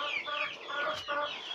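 Several backyard chickens, including white mini meat-type hens, cluck and chatter together nearby in a dense, overlapping stream of short calls with no talking.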